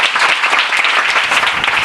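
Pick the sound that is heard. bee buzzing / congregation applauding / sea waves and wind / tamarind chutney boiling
congregation applauding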